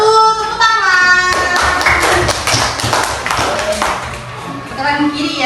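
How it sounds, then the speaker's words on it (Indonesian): Primary school pupils in a fifth-grade classroom clap their hands together in quick rhythmic bursts, loud and close, with a voice and some tonal sound running under the clapping. "tepuk tangan"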